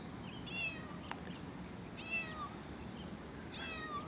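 A cat on a Mexico City street meows three times, clear and fairly close, each cry a rising-and-falling call spaced about a second and a half apart over faint background hum.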